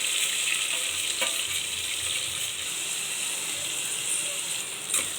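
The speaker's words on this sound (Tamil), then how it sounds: "ஆனியன் நல்லா ஃப்ரை ஆகிடுச்சு." Onions frying with ginger, dried chillies and curry leaves for millet upma, a dense continuous sizzle with occasional light scraping of a spoon against the pan.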